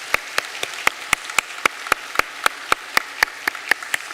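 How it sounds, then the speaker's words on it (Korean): Church congregation at a Sunday service clapping to welcome newly registered member families: sharp, regular claps in a steady rhythm, about four per second, rising clearly over a quiet room with no talk. "박수로 환영하겠습니다"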